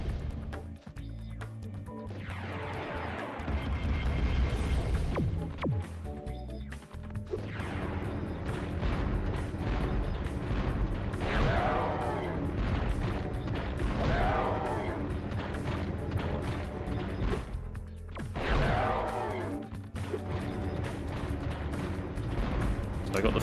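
Heavy booming tank cannon fire and explosions during a boss fight in Spyro: Year of the Dragon, dense and continuous over game music, with a player talking throughout.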